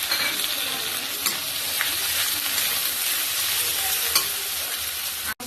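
Ginger paste and garlic sizzling steadily in a hot pan, a continuous close frying hiss with faint crackles and a brief stir near the end.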